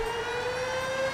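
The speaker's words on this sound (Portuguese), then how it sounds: "Barulho de sirene," A siren wails in Grand Theft Auto V near the beach ahead of a tsunami, a sustained steady tone that holds its pitch, fairly loud and clear, with no talking.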